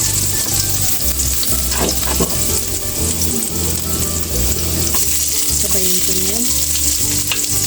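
Eggplant fries in hot cooking oil for adobong talong, a loud, steady sizzle and crackle with a brief spoken remark and a tonal background underneath.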